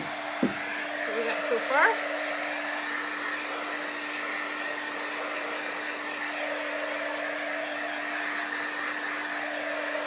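A hair dryer runs steadily close by, drying a chalk craft project, a constant airy whir with a low hum throughout; someone speaks briefly near the start.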